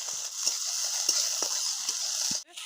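Chopped onions frying in hot oil tempered with five-spice (panch phoron) for a Bengali singara filling, a steady bright sizzle with periodic stirring scrapes and clicks of a spatula in the pan.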